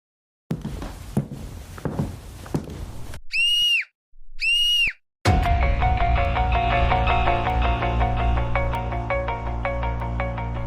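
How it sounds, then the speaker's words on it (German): A woman's scream bursts out in two short, high, piercing cries separated by silence, after some earlier rustling and footsteps, and is followed by a loud, sustained tonal sound like a ringtone or musical tone. "Sie hat meinen Schrei gehört."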